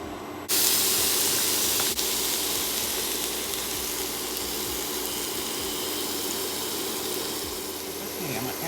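Seasoned shrimp drop into a hot skillet and burst into a loud, steady sizzle that starts abruptly and holds as a dense, close hiss throughout.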